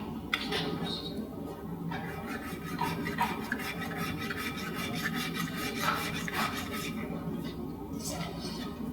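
Sandpaper rubbing back and forth over a brand-new ski during ski tuning, heard as a steady, close, rasping scrape that continues without a break.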